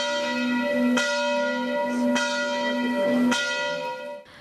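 Church bells ring for a funeral at the parish church of San Bartolomeo in Breda di Piave, their clear, sustained tones struck repeatedly with a long resonant hum that fades at the end.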